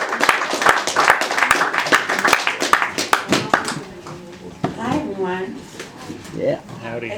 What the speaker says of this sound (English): Let's have a big round of applause for Lee Moore, everybody